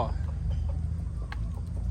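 Chickens on a Thai garden farm cluck softly in short, scattered calls over a steady low background murmur, fairly close but not loud.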